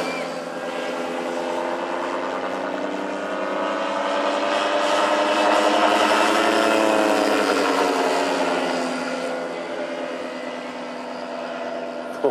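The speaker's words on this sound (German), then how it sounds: "jetzt merkt man, der Motor hat jetzt die richtige Betriebstemperatur" The engine of a giant 130 kg, 5.3 m RC Bücker Jungmeister scale model biplane runs at operating temperature. Its loud, continuous propeller drone swells toward the middle and then eases off slightly.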